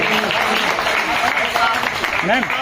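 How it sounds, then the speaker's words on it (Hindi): Audience clapping at a school award ceremony honoring top students, a continuous spread of applause with voices speaking over it and a rising vocal sweep near the end. "आप लोग तालियां बजाते रहिए"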